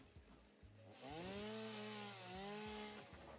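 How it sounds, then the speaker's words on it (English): A chainsaw cutting down a tree in the factory-building game Satisfactory, its motor revving up into a loud, steady buzzing whine for a couple of seconds before easing back down. "so let's quickly switch out to the chainsaw."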